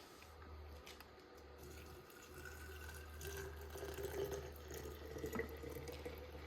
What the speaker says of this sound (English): And then we're going to put some boiling water on this.